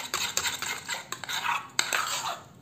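A spoon works quickly around a bowl set in cold water to thicken a homemade foot-care mixture, making rapid, irregular scraping strokes and sharp clinks against the sides, close and with no one speaking.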